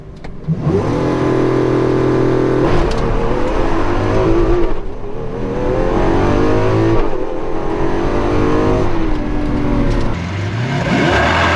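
Lamborghini Aventador SV in Corsa mode pulling away hard in first gear, its engine revving loudly and close, with several sharp rising surges broken by abrupt shift pauses.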